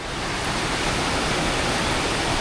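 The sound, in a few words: mountain river flowing in Colombia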